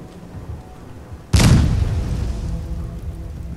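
A sudden loud boom from an explosion in Fallout 4, a sharp close blast followed by a long rumbling decay that fades but lingers to the end.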